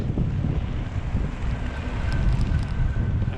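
Strong wind buffets the microphone while riding an ebike, a steady low rumbling roar with gusty swells throughout, no voices present.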